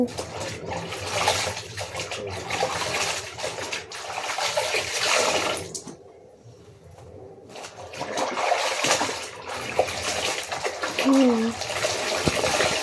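Clothes are washed by hand in buckets of water on a winter day, with continuous splashing, sloshing and wringing noises close by. A brief lull falls partway through, and speech is heard at times.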